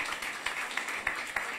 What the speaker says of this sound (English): Let's clap for her as she goes